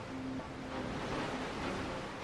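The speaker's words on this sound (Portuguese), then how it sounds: "uma parede gigantesca de água que se forma quando marés muito altas na baía forçam caminho invadindo a estreita foz do rio" A tidal bore on the Qiantang River in Hangzhou Bay forms a wall of water that surges into the narrow river mouth. It makes a steady, broad roar of rushing surf with some wind noise.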